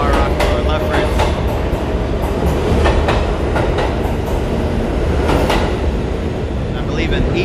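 A New York City subway train runs on the IND 8th Avenue Line, producing a loud, continuous rumble with repeated clickety-clack wheel impacts close by.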